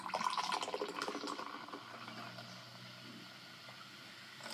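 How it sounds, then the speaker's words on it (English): AMP Energy passion fruit drink poured from a can into a glass, a close splashing and fizzing pour that is strongest at first and then tapers into a softer trickle. "Alright, let's pour it."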